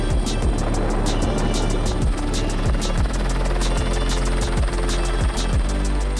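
Rescue helicopter airlifting an injured rider at Rally du Maroc, loud and close, its rotor chopping in a steady fast pulse over a constant engine drone with no voices.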